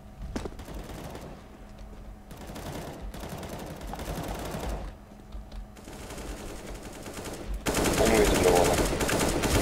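Automatic rifle fire in a CS:GO competitive match: several rapid bursts of shots separated by short pauses, then a dense sustained loud stretch near the end, with a player talking at times.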